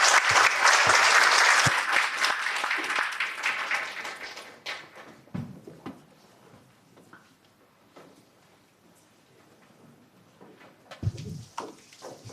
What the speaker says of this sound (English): So please give him a biggest applause again.